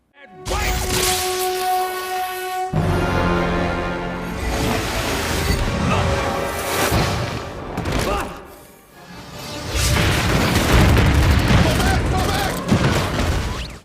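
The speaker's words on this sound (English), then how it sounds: "Energy Blast." A Silver Surfer energy blast effect: loud booming bursts with ringing tones, sustained crackling and rumbling that swells, fades briefly, then surges again.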